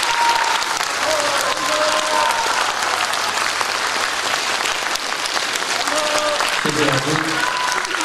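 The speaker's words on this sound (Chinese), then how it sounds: "鼓掌的机会" Sustained, dense applause from an audience at a 2018 festive harvest-celebration music concert, loud and steady throughout, with a brief spoken voice over the clapping.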